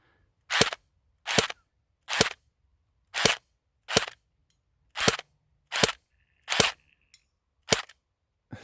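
An airsoft gun fires BBs at an outdoor range in ten sharp, evenly spaced cracks, each a single loud snap separated by quiet gaps, with no talking.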